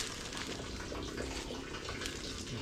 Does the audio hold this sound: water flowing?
yes